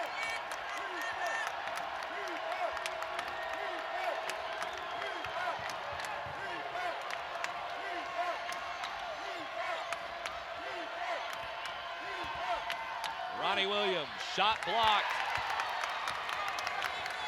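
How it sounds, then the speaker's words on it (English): Crowd noise at a Georgia vs Florida women's basketball game, a steady roar of spectators under fast play-by-play commentary, swelling into louder cheering near the end. "you can hear the crowd getting into it here"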